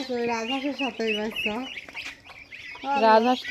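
Khaki Campbell ducks quack in a flock near the listener, repeated nasal calls in bursts with a short pause before a louder group of calls, mixed with other poultry clucking.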